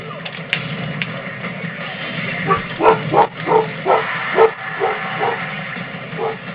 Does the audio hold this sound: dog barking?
yes